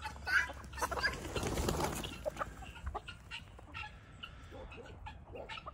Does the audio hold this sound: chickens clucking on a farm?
yes